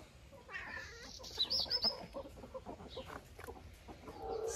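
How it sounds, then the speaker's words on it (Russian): A hen with chicks clucks nearby, several short close clucks in an uneven run amid faint rustling, with a cat's presence also suggested. "Прогнала тебя курица."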